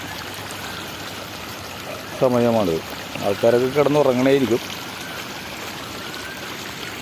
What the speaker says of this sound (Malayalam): റോഡ് കവിഞ്ഞ് കണ്ടത്തിലോട്ട് ഒഴുകിക്കൊണ്ടിരിക്കുന്നത്